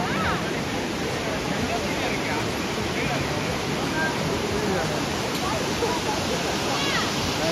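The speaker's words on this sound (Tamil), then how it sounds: "இப்போ நீங்கள் பார்க்குற அருவிக்கு பேர் தான் அர்ஜுனன் அருவி." Arjunan waterfall, a cascade on a forested hillside, pours in a steady, loud broadband roar that fills the whole stretch without pause, with faint crowd murmur mixed into the rush.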